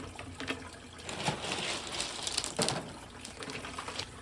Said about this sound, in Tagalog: ang goal natin ay pumantay yung overflow ng tubig